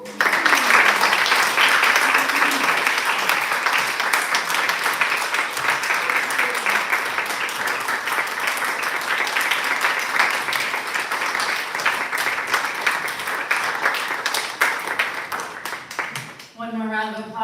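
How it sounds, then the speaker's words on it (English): After a poet finishes reading at a poetry event, the audience breaks into long, dense applause that stays strong for most of its length before tapering off, with a voice coming in at the very end. "One more round of applause for George."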